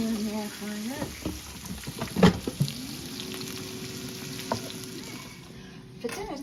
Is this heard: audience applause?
no